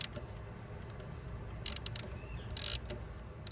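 A ratchet with a 10mm socket clicks while removing a bolt during a tune-up on a 2008 Ford Escape, with short bursts of quick, close clicking against a quiet background.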